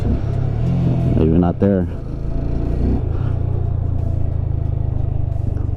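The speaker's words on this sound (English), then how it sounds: "Let's go ahead and do a first gear wheelie here." A Honda Grom motorcycle engine revs hard and holds a loud, rough rumble through a first gear wheelie in a parking lot, with brief speech over it.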